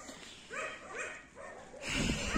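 Several dogs bark outdoors in a series of short, repeated barks at moderate distance, with a louder burst of noise near the end.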